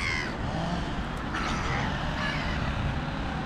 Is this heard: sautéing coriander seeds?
no